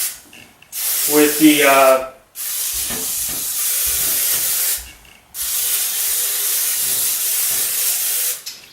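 Non-stick cooking spray hissing onto the bottom of a cake pan in three long close bursts, with a brief spoken remark between the first two sprays.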